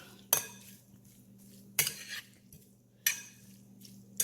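A utensil scraping and clinking against a bowl while red onion is mixed into an octopus salad, three or four sharp clinks spaced a second or so apart over a steady low hum.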